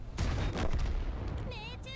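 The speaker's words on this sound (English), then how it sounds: "The E4 shoots APCR probably into my lower plate." An E4 tank's cannon fires an APCR round in a tank battle game, a heavy booming shot with rolling echo near the start, followed by a second thump and whistling game effects.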